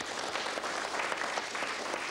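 Steady applause from game show players in a studio at a 1993 bluff-club TV program, dense continuous clapping held at an even level throughout.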